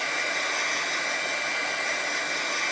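Steady, loud whoosh of a hair dryer blowing air onto a drying watercolor landscape painting, holding one constant tone without a break and heard alone with no voices.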